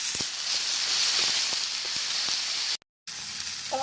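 Tomatoes frying in a hot pan with ginger garlic paste, giving a steady close sizzle and hiss with faint stirring ticks, broken by a brief moment of silence near the end.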